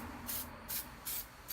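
Short bursts of aerosol spray hissing in four evenly spaced pulses, close by, over a low steady background hum.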